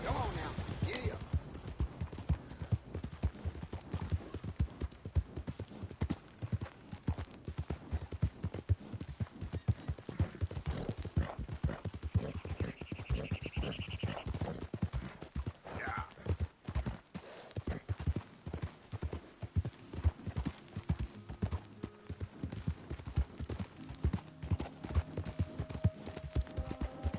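Horse hooves galloping in Red Dead Redemption 2, a fast, rhythmic clip-clop pounding steadily and close for the whole stretch, with brief game sounds layered over it.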